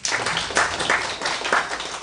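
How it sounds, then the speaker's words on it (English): Audience applause at a corporate youth event in Uganda, steady crowd clapping that stays moderately loud throughout without breaks. "First clap for that."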